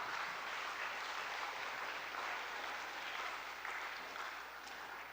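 A church congregation applauding, a dense, even wash of clapping from many hands that holds steady and fades slightly toward the end.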